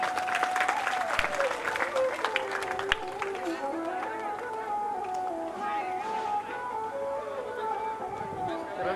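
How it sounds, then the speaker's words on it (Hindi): Audience applause at a Ram Katha religious gathering in Haryana, a dense sustained clapping wash that carries on steadily, with voices and tonal sounds mixed in above it. "तालियां"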